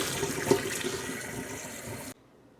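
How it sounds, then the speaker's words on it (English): Onions and a pepper are rinsed under a running kitchen tap: a steady, close rush of water splashing in the sink that cuts off abruptly near the end. "No real reason to wash the onions, but I did already wash the pepper, but I like to give it a quick rinse"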